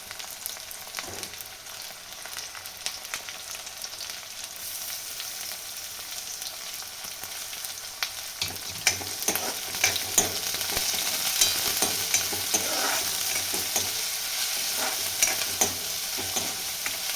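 Garlic and chillies frying in a pan for tandulja bhaji, a quiet hiss that swells into a louder, crackling sizzle about halfway through, with close stirring scrapes and no talking.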